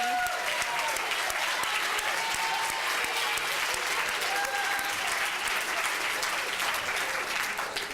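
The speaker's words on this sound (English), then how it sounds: "We'll give the coaches a round of applause." An audience at a university event applauds the coaches, a dense, even wash of clapping that holds steady for eight seconds at moderate distance.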